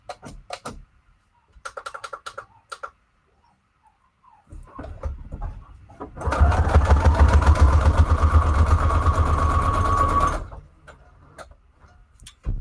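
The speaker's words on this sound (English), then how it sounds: "Let me just do a straight stitch here just to kind of connect it all." A sewing machine runs a straight stitch through scrap paper embellishments, a fast, even mechanical whirr for about four seconds after a few scattered handling ticks and clicks.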